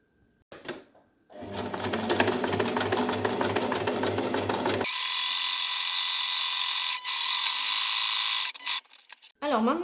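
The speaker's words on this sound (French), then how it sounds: "on va passer une couture sur le côté arrondi" A sewing machine stitches a seam along the rounded edge of a fabric piece, a loud steady whirring run that shifts pitch partway through, with brief handling noises before and after.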